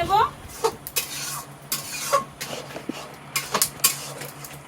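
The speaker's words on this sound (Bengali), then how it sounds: "একটু খুন্তি দিয়ে ঘেটে দিতে হয় যাতে গোটা গোটা না থাকে" A spatula clinks and scrapes against a pan while boiled taro leaves are stirred and mashed, giving irregular close metallic knocks and scrapes, with a person talking over them.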